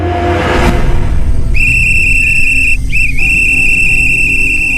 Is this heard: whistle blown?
yes